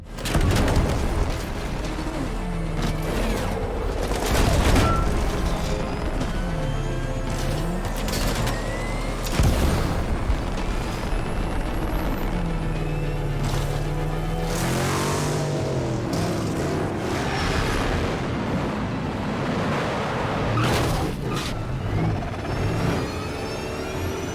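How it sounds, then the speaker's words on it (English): The Batmobile in the video game Batman: Arkham Knight, with loud booming thruster blasts and sputtering, revving engine and tyre noise as it drifts, running as a continuous, dense roar with repeated heavy bursts throughout. "the sound effects of the Batmobile go a long way to sell that feeling too, with the booming blast of the thrusters to the sputtering sound of the wheels as you drift"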